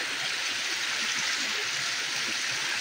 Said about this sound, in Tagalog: Ayan na ilog.